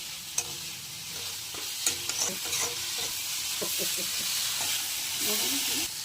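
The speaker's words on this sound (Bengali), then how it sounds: "মাছগুলো এখন দিয়ে দিচ্ছি আমি। এখন লাড়াচাড়া করবো" Fish frying in spiced oil sizzles and hisses steadily while a utensil scrapes and stirs through the pan in repeated strokes, close up, with a faint voice now and then.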